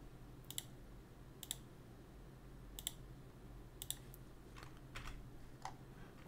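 Computer mouse clicking on corner points in Allplan CAD software: a series of sharp, quiet clicks in an irregular rhythm, about eight in all, over a low hum in a quiet room.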